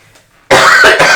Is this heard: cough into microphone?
yes